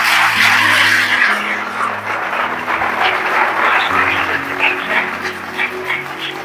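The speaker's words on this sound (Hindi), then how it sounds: "तो आइए जोरदार तालियां बजाते हैं।" A church congregation gives loud, sustained applause, a dense wash of clapping layered over steady instrumental tones that carry on beneath it.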